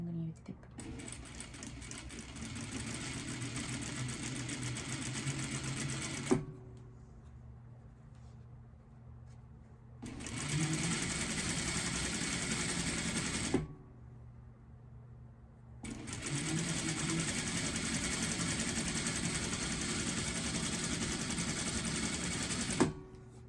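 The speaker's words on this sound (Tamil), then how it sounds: "மெயின் கிளாத் கீழே நல்ல பக்கம் மேலே இருக்கக்கூடிய மாதிரியும் அதுக்கு மேலே லைனிங் துணியை வச்சு தைப்போம்." A sewing machine stitching a blouse sleeve with lining fabric laid over the main cloth runs in three long, steady close-up bursts separated by short pauses, with speech in Tamil heard during the quiet gaps.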